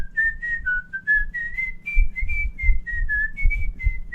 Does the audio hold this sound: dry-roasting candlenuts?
no